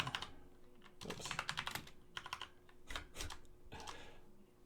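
Fast bursts of typing on a computer keyboard, close and fairly quiet, come in uneven clusters of key clicks with brief pauses between runs.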